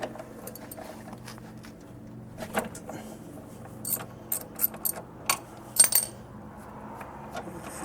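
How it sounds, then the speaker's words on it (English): Vice grips working loose an end link on a C5 Corvette, giving a series of sharp metallic clicks and ratcheting clanks in irregular bursts, close and moderately loud over a low background hum. "go for it right here, right now, with the good old vice grips and lefty loosey."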